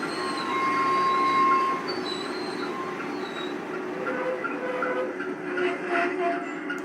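Brakes on a G scale diesel locomotive model with a TCS WOW sound DCC decoder, a steady rail rumble with thin squealing tones running throughout, fairly loud and alone with no voices.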